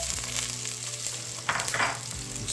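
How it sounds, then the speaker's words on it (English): Ginger frying in a pan makes a close, steady sizzle, broken by a brief louder burst of crackling and stirring midway. "fry that up until it's nice and brown"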